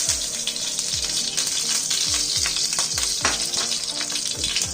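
Oil and vegetables for an egg roll sizzle loudly and evenly in a frying pan. A regular series of clanks and scrapes from stirring runs over the hiss, and no voice is heard.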